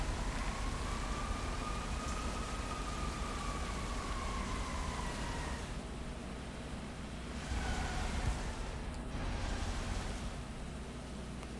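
Steady rain hisses in the Hitman 3 video game, falling across a rooftop setting in China. The soft, continuous wash of noise stays at a consistent level and is heard alone, with brief swells partway through.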